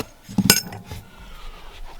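Steel and aluminum transmission oil pans at a racing transmission shop clank and clink against each other as they are handled, making a sharp metallic hit followed by a few lighter taps close by.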